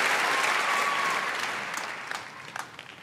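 A large audience applauds at a speech event, dense clapping loud at first and then thinning out and fading, with a few scattered final claps near the end.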